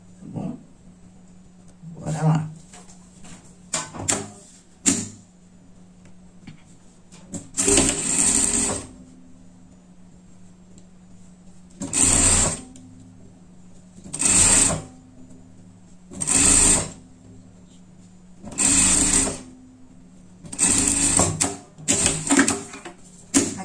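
Sewing machine stitching a seam that joins three wool tweed pieces for a pet outfit, heard as repeated short bursts of a few seconds each, close and fairly loud, separated by pauses with quiet handling sounds.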